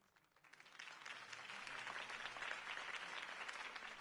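A crowd claps after Harvey Dent's campaign speech in Batman, the applause rising from a thin patter into a full, sustained wash of many hands, fairly quiet overall.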